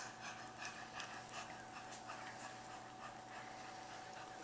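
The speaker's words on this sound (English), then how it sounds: "Let everybody see the puppies." Two-day-old cocker spaniel puppies pant and whimper faintly, a soft continuous breathy rustle with small squeaky peaks and no talk.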